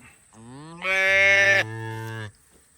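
A cow on a farm moos close by in one long, loud, tonal call that rises in pitch and then drops to a lower held note before stopping abruptly, with no talking.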